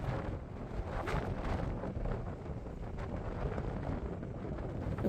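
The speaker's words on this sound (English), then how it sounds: "the hill also receives the brunt of the wind channeled by the mountains." Strong wind gusts across an exposed hilltop near a lakeside town in Waterton Lakes National Park, Alberta, channeled by the mountains, a continuous roaring rumble buffeting the microphone.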